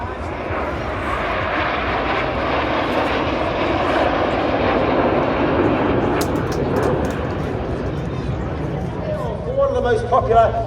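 Red Arrows jets flying an air show display at Ayr roar in a broad, continuous rumble that swells and lingers, with a public-address voice and crowd noise faintly under the jet noise.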